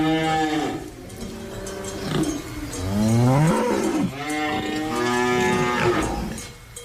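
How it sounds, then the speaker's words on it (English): A cow sound effect played on a radio show gives a series of loud, drawn-out moos with rising and falling pitch, one blending into the next over about seven seconds, with nothing else audible. "if you've never been within 10 feet of a cow. And in the meantime, this is what it might sound like if you don't know."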